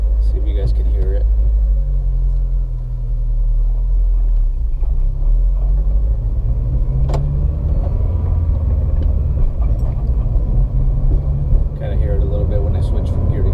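A 2007 Honda Civic Si with 120,000 miles, driving and shifting from gear to gear while making an odd noise: a loud, close, steady engine and road rumble fills the whole stretch with little variation.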